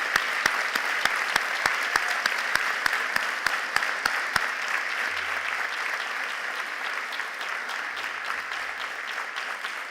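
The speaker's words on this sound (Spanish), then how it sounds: "Dale un fuerte aplauso al Señor." Church congregation applauding, a steady wash of clapping from a crowd with sharp, evenly spaced claps near the front for the first half, continuing without talk.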